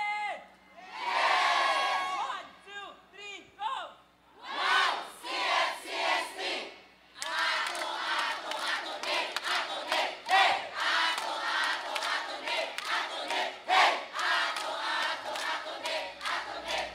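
Crowd at a sports event opening ceremony in Cotabato, shouting and chanting in bursts, then sustained loud cheering and rhythmic clapping, with voices calling out over the din.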